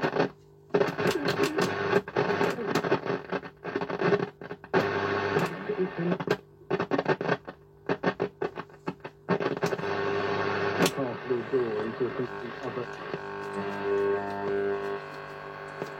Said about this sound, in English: We're getting Radio 4 on long wave, so that's pretty good.